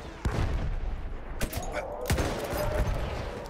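Bursts of gunfire from the game Battlefield 1, sharp cracks and booms over a dense rumbling background, a few loud shots standing out, fairly close.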